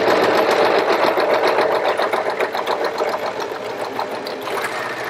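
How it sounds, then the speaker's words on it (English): A serger runs a four-thread safety stitch at a short stitch length, giving a close, continuous rapid chatter that lasts the whole stretch with no pauses. "I'm just going to set my stitch length to 1 and sew a few inches"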